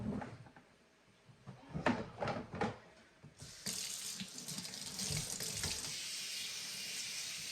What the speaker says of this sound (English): So we're going to give it a rinse.